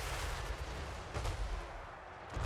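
Booming artillery fire rolls on continuously in a Warhammer battle game, a dense barrage of low thuds and blasts layered over one another, with no voices.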